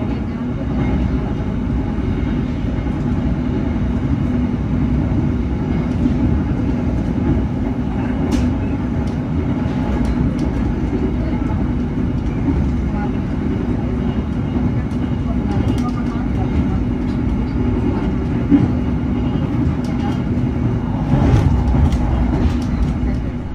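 The Taksaka passenger train overtakes the Lodaya train at Gombong station, heard as a steady, close rumble and rattle of the carriages rolling along, unbroken throughout with occasional faint clicks.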